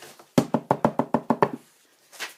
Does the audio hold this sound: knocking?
yes